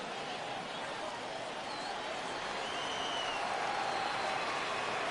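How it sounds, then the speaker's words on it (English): A virtual ballpark crowd in MLB The Show 16 swells with a steady, distant roar of cheering and clapping on a full count, slowly building in loudness. "Crowd gets up for the 3-2."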